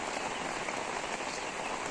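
Heavy morning rain pours steadily through a forest, a dense, continuous hiss of drops striking leaves and ground with no pauses or other sounds.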